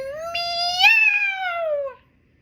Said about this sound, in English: The super cat lets loose with a deafening meow